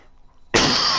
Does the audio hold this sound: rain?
no